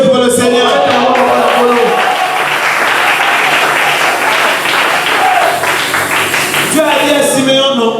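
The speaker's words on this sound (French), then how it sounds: "Applaudissez pour le Seigneur." Church congregation at a French-language sermon breaking into sustained loud applause for several seconds, with a voice speaking over it at the start and again as the clapping fades near the end.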